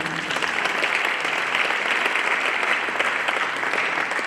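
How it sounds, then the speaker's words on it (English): Steady, full applause from an audience at a high school hall of fame ceremony, dense clapping that holds evenly with little else above it. "Let's give it a applause."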